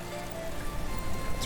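Steady rain patters across the ground in the city-building survival game Patron, a constant wash of drops without break, fairly close and even, with no talk over it.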